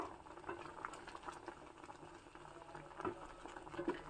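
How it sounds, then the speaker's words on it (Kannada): A pot of greens with basella stems and salt boils on the stove, a soft continuous bubbling with occasional louder pops, quiet and close. "ಚೆನ್ನಾಗಿ ಕುದಿಸ್ಕೋಬೇಕು"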